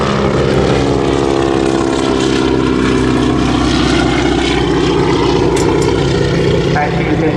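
A Stearman biplane, fabric-covered in Ceconite, flies a close display pass at the Southport Airshow 2024. Its propeller engine drones loud and steady throughout, with a faint voice underneath at times.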